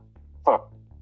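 A single dog bark in the video game Project Warlock II, one short loud yelp rising sharply over a quiet low hum of game background.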